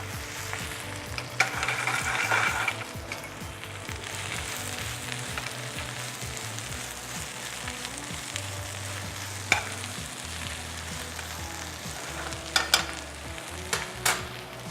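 Spinach sizzles and fries in a pan while being stirred, a steady close crackle with scraping bursts from the utensil and a few sharp clinks near the end.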